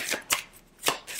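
Tarot cards shuffled and handled for a three-card draw, giving repeated sharp riffling bursts in a steady rhythm, close and clear with no talk.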